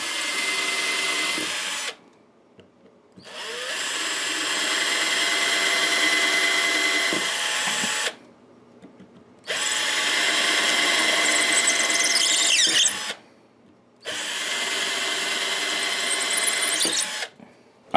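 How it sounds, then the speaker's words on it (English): A power drill boring holes to depth in a guitar neck, running in three long, loud, whining bursts up close with short quiet gaps between them and no talk. "now I drill it to the depth it needs to be"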